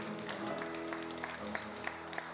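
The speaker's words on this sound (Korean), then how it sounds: "박수로 축복드립니다." Congregation clapping during a Sunday daytime church service after a hymn, a dense steady patter of many hands over a lingering sustained organ or keyboard tone, with a few sharper claps standing out.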